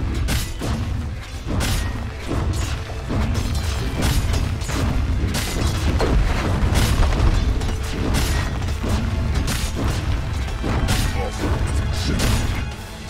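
Repeated heavy impacts and crashing thuds sound as a Dota 2 tower comes under attack and is destroyed, a dense, loud series of booms and smashes arriving in irregular bursts with no pauses.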